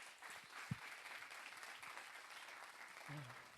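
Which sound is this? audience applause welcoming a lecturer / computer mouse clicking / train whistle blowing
audience applause welcoming a lecturer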